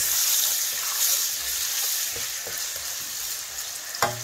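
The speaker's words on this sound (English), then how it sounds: "the next thing we're going to be adding is our medium-sized sliced onions. So we're just going to stir that a bit." Medium-sized sliced onions fry in oil as they are stirred, giving a steady bright sizzle broken by soft spatula scrapes and a sharper knock near the end.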